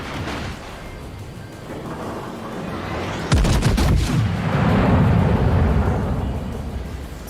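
Heavy naval guns of a warship in World of Warships fire in a single loud booming salvo, followed by a deep rolling rumble that swells and slowly fades over the sea ambience.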